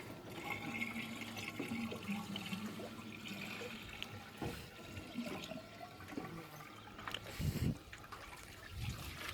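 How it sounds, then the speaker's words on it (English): Water is poured into an Ashby self-priming fire pump to help prime it, a steady close splashing and trickling that runs throughout with a few louder gurgling surges near the end. "I'm going to dump some water into here"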